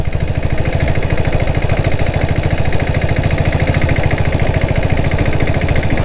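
A diesel Royal Enfield Bullet motorcycle with a 7.5 HP turbocharged engine, carrying two riders, pulls up a small incline with a loud, close, steady thumping beat that chugs without a break for the whole stretch.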